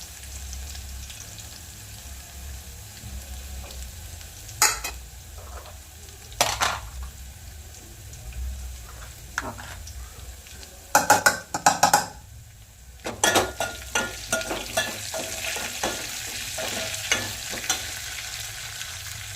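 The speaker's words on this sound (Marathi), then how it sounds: "मी कोथिंबीर घालत आहे फोडणीला" Coriander leaves drop into a hot, sizzling tempering for a village-style gargatta, giving a steady fry with several sharp stirring and clinking bursts from the pan, close and alone with no talk.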